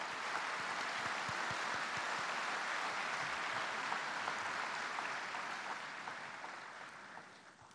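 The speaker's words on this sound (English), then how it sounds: "Can you please give me a hand of applause?" An audience at the 2018 African Development Bank Group Annual Meetings in Busan claps for the city's Vice Mayor. The sustained applause is fairly faint and tapers off toward the end.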